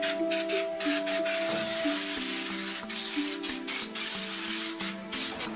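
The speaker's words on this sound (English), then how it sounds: "spray the dots all over the underside of the car" Steady hissing spray of microdots onto a car's underside runs continuously with brief pulses and gaps, over a faint tonal machine hum underneath.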